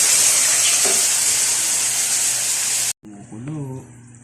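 Mushroom gravy hitting a hot sizzling plate gives a loud, bright hiss and crackle of frying, steady and close, then cuts off abruptly and a voice speaks briefly over a fainter bubbling simmer.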